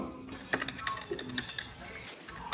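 Typing on a computer keyboard produces a steady run of light, close clicks at an uneven pace throughout, fairly quiet, with a faint bit of voice in the background.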